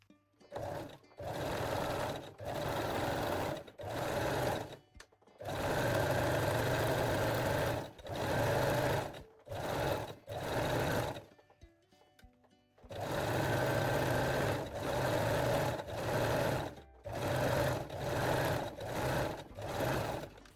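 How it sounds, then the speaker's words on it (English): A sewing machine zigzag-stitches fold-over elastic onto a jersey waistline in repeated bursts of fast close mechanical whirring, short runs and longer stretches separated by brief pauses, with no talking. "set your machine to zigzag or 3-step zigzag stitch and finish the waistline using the fold over elastic"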